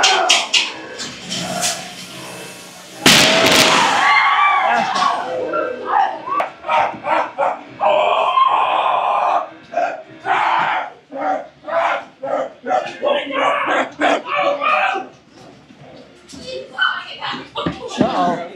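Dogs bark repeatedly in a haunted house attraction, sharp loud yelps and barks in quick bursts mixed with people shouting and talking amid the noise.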